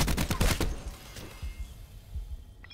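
A rapid burst of gunfire in Black Ops 4 during a 2v2 Search and Destroy match on Firing Range, with several sharp close shots at the start and scattered fainter thuds trailing after.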